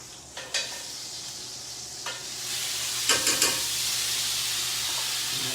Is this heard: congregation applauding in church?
no